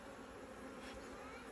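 Honeybees buzz at a beehive holding capped brood, a close, dense and steady hum that continues alone without talk.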